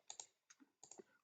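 Quiet, close computer mouse clicks while working in a Word document, a handful of small dry ticks spaced unevenly in a near-silent room.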